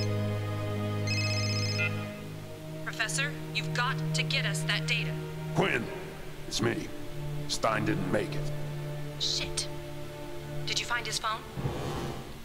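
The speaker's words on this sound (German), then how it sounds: "Klingelt hier ein Telefon oder was?" Telephone ringing in the Serious Sam 3 BFE video game: a short warbling ring near the start, then a low game tone under someone talking throughout, with later bursts of sound behind the talk.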